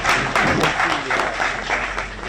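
A crowd applauds steadily and fairly loudly for a couple of seconds, a dense wash of claps filling the space without pause.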